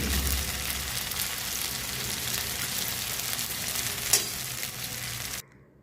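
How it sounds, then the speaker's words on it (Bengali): Fish frying with ginger paste in a hot pan, a steady loud sizzle with a spatula stirring through it and one sharp scrape near the end before the hiss cuts off abruptly. "আদা বাটা দিয়ে নাড়াচাড়া করে নিচ্ছি।"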